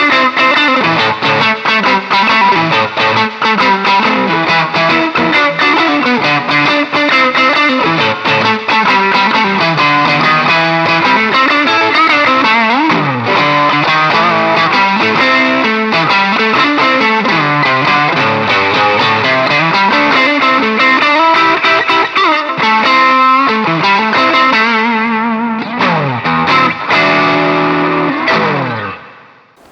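A Gusta GST-05 Strat-style electric guitar plays with heavy distortion in a loud, continuous run of gritty chords and bends, with no talking, and the notes fade out at the end.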